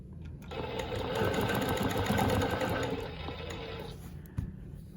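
A longarm quilting machine stitches Baptist fan curves guided by rulers on a quilt top, a fairly quiet, continuous whirring that runs for several seconds and then eases off, ending in a small knock.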